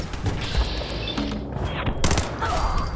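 Turret gunfire in Fallout 4, a fairly loud fusillade of rattling shots and mechanical clatter over a busy game background, close and continuous across the short stretch.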